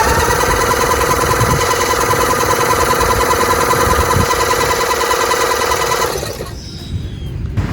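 An electric starter cranks the engine of a 1997 Murray 30575X31A lawnmower in a loud, fast, even whirring chatter for about six seconds, then cuts off abruptly.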